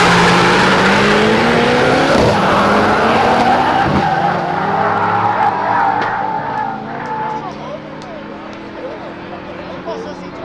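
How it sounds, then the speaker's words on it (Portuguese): Tires squeal loudly and continuously as a Volkswagen Jetta launches down a street drag race strip, with engine roar underneath, fading slightly toward the end while people talk over it. "200 metros cantando pneu"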